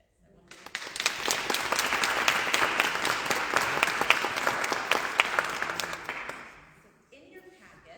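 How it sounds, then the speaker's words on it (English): A crowd at an ecumenical and interfaith advocacy keynote gives a big round of applause: dense clapping swells in, holds steady for about five seconds, then fades away, followed by quiet room noise. "I just want to give them a big round of applause"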